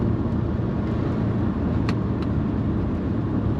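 A BMW 325is E30 is driven on the road, its engine and tyre roar a loud, steady low drone from inside the car, with a couple of faint ticks and no talk.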